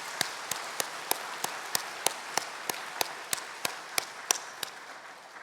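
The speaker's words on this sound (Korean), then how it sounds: "여러분 광주시정을 잘 맡아서 광주 시민들을 위해서 잘 힘써 일하실 수 있도록 격려의 박수 한번 부탁드리겠습니다." Church congregation in a Sunday worship service clapping in encouragement, slow unison claps in an even rhythm, about fifteen beats, moderately faint and roomy, no talk.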